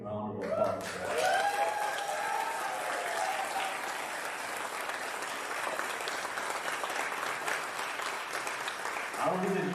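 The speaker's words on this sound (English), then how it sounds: "They should come out so we can give them a quick round of applause." A conference audience gives a sustained round of applause for the event staff at a plenary session, dense clapping filling the hall for nearly ten seconds, with a voice briefly audible at the start.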